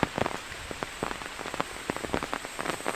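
Rain drums on an umbrella held over a garden after a heavy storm, with close, irregular crisp taps and patters that cluster in quick bursts.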